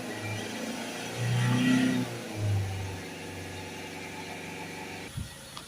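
A Ford Transit MK8 van engine turns over and settles into a steady low idle hum while warming up, with a brief rise in revs early on and a small click near the end.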